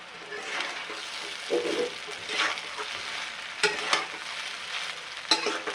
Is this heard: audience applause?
no